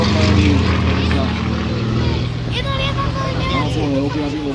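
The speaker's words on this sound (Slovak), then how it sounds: "na oblohe objavilo lietadlo" A propeller airplane passes overhead during a WWII battle reenactment at Veľké Kozmálovce, its steady loud engine drone filling the whole stretch while a voice commentates over it.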